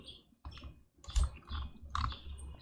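Computer keyboard keys pressed in a few quick, close clicks during photo editing software use, irregular taps and a short key combination heard alone.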